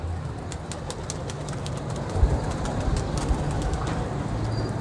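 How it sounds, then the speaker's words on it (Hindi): Soft pigeon coos repeat over a steady low rumble of background noise, with faint chirps higher up; no one speaks. "बहुत बहुत अच्छे कबूतर पकड़े हुए हैं।"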